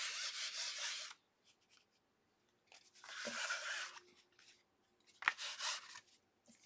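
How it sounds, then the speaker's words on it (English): Paste and wax rubbed by hand onto a mixed media tag: three bursts of scratchy, rasping friction separated by short pauses, close and fairly loud with no talking. "and rub and rub and rub"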